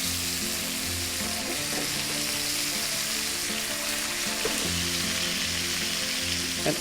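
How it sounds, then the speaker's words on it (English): Butter sizzling in a hot frying pan while steaks are cooked, a loud continuous crackle with a low hum underneath. "Butter goes in to the pan."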